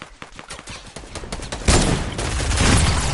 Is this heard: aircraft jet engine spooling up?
no